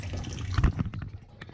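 Water drains from a plugged boiler steam return during a no-heat repair, splashing and trickling up close with scattered drips, strongest early on and then thinning to a lighter dribble.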